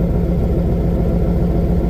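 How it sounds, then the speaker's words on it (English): A 1996 Chevy Camaro Z28 idles through a Flowmaster exhaust, recorded close at the rear as a steady, loud, deep rumble with a low pulsing throb and no talk. "Take you guys back here to the back, let you hear that exhaust."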